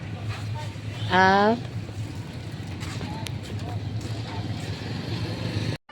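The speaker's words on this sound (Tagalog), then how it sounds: "nakasakay na ako ngayon sa aming motor. Pauwi na kami guys." A motorcycle ride home gives a steady low engine drone with road rumble all through, and a brief rising whine partway in; no one speaks.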